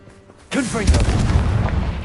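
Confringo blasting spell in Hogwarts Legacy, a sudden deep boom followed by a rumbling burst that trails off over about a second and a half, with a voice heard at the moment of casting.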